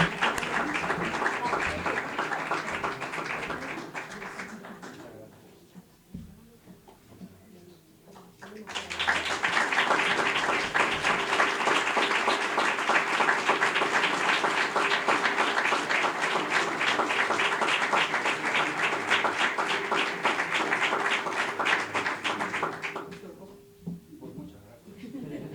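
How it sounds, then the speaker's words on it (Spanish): An audience applauds at a short-novel prize award ceremony, loud sustained clapping from a crowd that starts, dips briefly, then swells again for a long stretch before tapering off. "Un gran aplauso."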